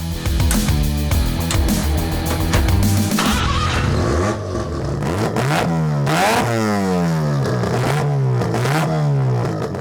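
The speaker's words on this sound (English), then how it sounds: "the thing you have to experience for yourself is that rotary sound" A small 42-year-old Mazda RX3 with a rotary engine revs hard at close range, loud and buzzy, with rapid rising and falling sweeps, sharp blips and clattering texture.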